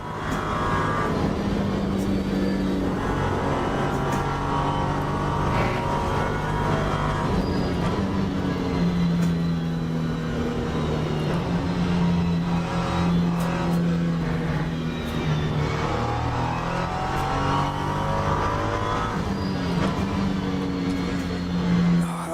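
A race car in Le Mans Ultimate drones steadily at high revs, its engine pitch rising and falling through gear changes and corners, loud and continuous with no pauses.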